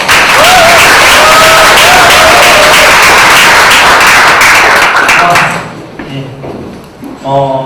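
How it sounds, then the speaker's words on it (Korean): Loud, dense audience applause at a Prezi presentation seminar welcomes the first presenter, sustained for over five seconds before cutting off abruptly, followed by a few scattered claps and light taps in a quieter room. "박수를 크게 쳐주시면 나오실 거예요. 박수 부탁드릴게요"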